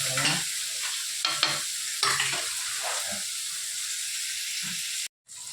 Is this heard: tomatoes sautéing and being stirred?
yes